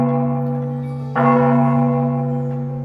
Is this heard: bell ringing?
yes